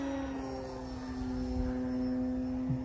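An FMS Pitts V2 1400mm RC airplane flies at a distance, its electric motor giving a steady high whine with a slight rise and fall as it passes through a loop, heard alone without talk.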